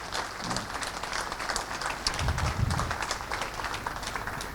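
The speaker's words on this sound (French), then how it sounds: "je vous propose d'applaudir l'ensemble des intervenants de cette séquence" Audience in a French conference closing session applauding the speakers, a moderate, somewhat uneven patter of clapping with a few heavier low thumps partway through.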